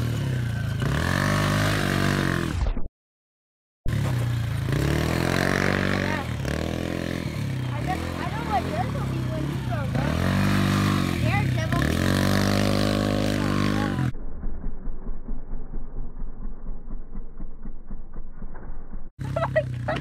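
Motorcycle engine at a riding spot in Taft, California revs up and down in repeated throttle swells with mechanical rattles, then drops to a rough, uneven idle after a short gap, while people talk nearby.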